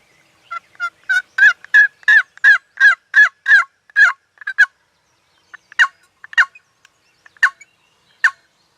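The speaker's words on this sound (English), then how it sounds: "there's a gobbler with her now" Wild turkey gobbler gobbling in the field during a spring hunt: a long rapid run of loud, rattling gobbles, then scattered shorter bursts after a pause, clear against a silent background.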